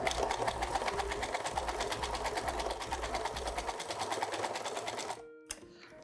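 A sewing machine set to tension 3 stitches fabric in a fast, even, rattling run for about five seconds, then stops and is followed by a faint click.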